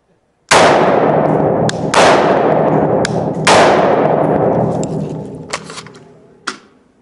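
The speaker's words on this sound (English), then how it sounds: "So I'm going to shoot it real quick so that you can see the impact in the target that it will make." AR-15 rifle fired at a target, with a few loud, sharp cracks spaced about a second apart, each trailing a long echo, followed by fainter clinks as it dies away.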